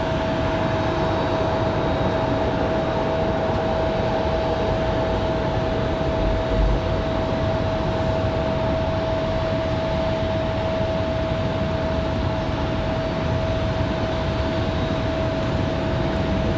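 At windy Raleigh-Durham airport, an airliner touches down with a constant broad jet roar and a steady tonal whine running throughout, fairly loud and with no voices.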